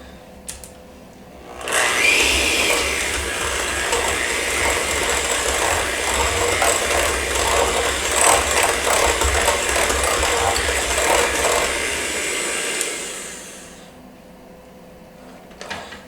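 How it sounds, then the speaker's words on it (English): An electric hand mixer's beaters whir in a bowl, softening and spreading a cold keto dessert mixture: the motor starts abruptly, buzzes loudly and steadily with faint rattling for about eleven seconds, then winds down. "I am going to just give this a quick mix with the beaters"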